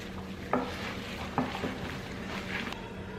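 A bare hand kneads and squishes a meatloaf mixture with grated onion in a bowl, giving soft wet squelches with a few sharper slaps, quiet and close.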